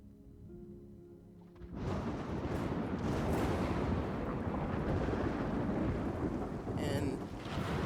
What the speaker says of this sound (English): you start to hear thunder crashing, lightning strikes occasionally